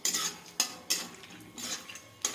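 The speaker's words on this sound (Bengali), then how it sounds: "কড়াইতে তেল দিয়ে বাদামটাকে ভেজে নেব। দেখো বাদামটাকে আমি তেলের মধ্যে ভেজে নিচ্ছি।" Peanuts frying in oil in a kadai while a metal spoon stirs them, sharp ladle clanks against the pan recurring every half second or so over a soft background sizzle, close up, no speech.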